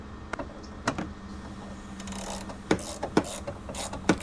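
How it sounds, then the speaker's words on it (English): Screws being tightened on the replacement side mirror of a 2017 Dodge Ram ProMaster; sparse, sharp clicks and ticks from the tool sound close and fairly soft over a faint steady hum. "now we're going to go ahead and just tighten back down the screws, the 4 screws"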